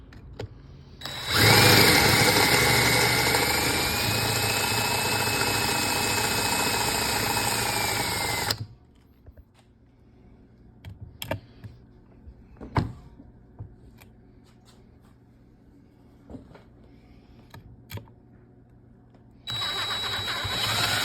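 A power drill whines steadily for several seconds drilling out rivets on a Honda 450R ATV, stops, then scattered clicks and knocks follow before the drill starts up again near the end.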